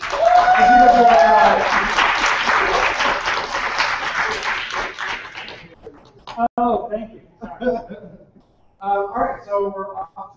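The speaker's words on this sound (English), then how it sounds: "Let's give Jeremy one more round of applause" An audience claps warmly after a talk on online annotation, loud at first and fading over about five seconds, then someone speaks alone.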